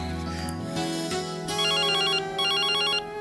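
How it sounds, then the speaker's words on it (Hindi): A phone rings at moderate volume with a repeating electronic ringtone melody, heard alone without talk in a domestic scene from a Hindi TV drama. "नितिन फोन बज रहा है।"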